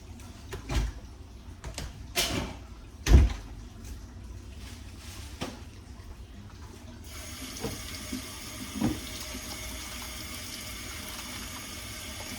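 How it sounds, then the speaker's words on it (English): Hands are washed under a running kitchen tap. A few knocks and splashes come first, then the water flows in a steady, close stream for the last several seconds. "Just wash my hands off again"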